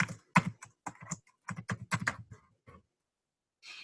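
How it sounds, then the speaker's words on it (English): An email address being typed on a computer keyboard: quick, close clusters of key clicks in an uneven rhythm, a short pause, then a final few taps, with no talking. "you need to type in your email address"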